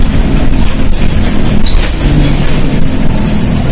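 A train on the Tanah Abang–Rangkas Bitung line rumbles steadily below, with a continuous loud roar of wheels on rails and faint metallic squeals, no voices.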